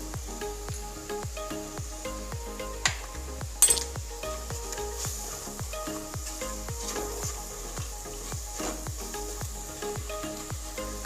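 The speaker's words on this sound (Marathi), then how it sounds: "आता हे जे फोडणी आहे आपली छान परतून झालेली आहे" Spices for a Marathi phodni tempering sizzle and fry in a pan for a patvadi rassa curry, with a steady frying hiss and regular scraping strokes of stirring throughout, quiet and without talk.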